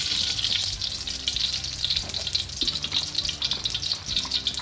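Crocodile meat stir-frying in hot oil for a Thai basil dish, giving a steady, close crackling sizzle that runs throughout with faint clinks and scrapes beneath and no talking.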